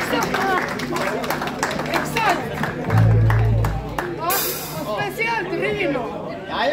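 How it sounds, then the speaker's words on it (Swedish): Scattered audience applause and cheering at an outdoor event, clapping mixed with lively chatter and voices, with a brief hissing burst partway through. "En applåd för det."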